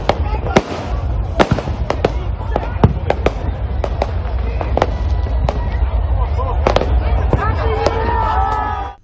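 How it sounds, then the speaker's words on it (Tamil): New Year fireworks over Goa burst in a rapid string of sharp bangs and crackles above a constant roar of crowd noise, loud and close throughout. "கோவாவில் புத்தாண்டு பிறப்பையொட்டி வான வேடிக்கைகள் களை கட்டின"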